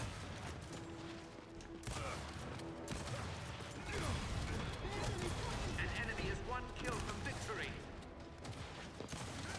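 Rapid gunfire and mechanical clatter from the Gears of War video game, a dense continuous barrage of shots and metallic effects with a voice speaking over parts of it.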